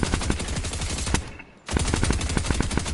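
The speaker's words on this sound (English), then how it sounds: "I'm aiming and shooting the same." Rapid automatic gunfire in Fortnite on PS5 at 120 fps, dense continuous bursts loud and close, broken by a brief pause before firing resumes.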